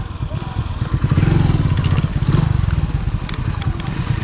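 Motorcycle ridden along an off-road trail near Adyanadka, with a close, rough, chugging engine note that rises and falls with the throttle over rattling and clatter from the bumpy ground.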